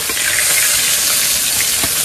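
Large tilapia fish sizzle steadily in hot oil, a dense, loud, hissing crackle that fills the whole moment without talk.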